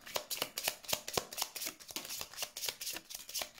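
Tarot cards being shuffled for a card reading, a steady run of quick crisp riffling flicks close up, repeating rhythmically with no talking.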